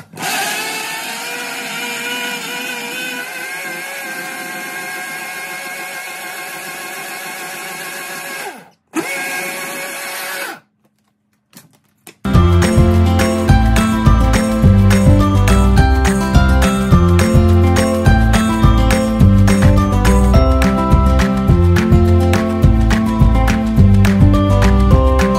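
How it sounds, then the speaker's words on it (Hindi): A kitchen blender whirs loudly with a steady high motor whine for several seconds, cuts out and briefly restarts, then after a short silence a dense rhythmic pounding fills the rest. "ब्लेंडर की आवाज से।"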